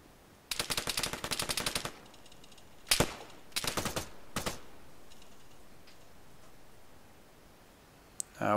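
Gunfire from a capture-the-flag multiplayer video game match: a rapid burst of automatic shots, then a single loud shot and two short bursts, fairly close, with quiet background afterward.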